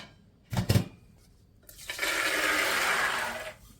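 Water pours into a pot of washed chickpeas, a steady rushing splash lasting a couple of seconds, preceded by a couple of brief knocks of the pot or bowl.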